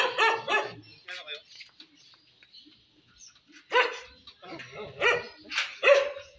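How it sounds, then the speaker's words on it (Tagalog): A dog barks in several sharp bursts, a cluster at the start and more later, fairly close and clear, with quieter whimpering yips in between and people talking nearby. "May aso dyan."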